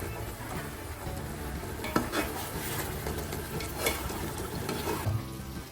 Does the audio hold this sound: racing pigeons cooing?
no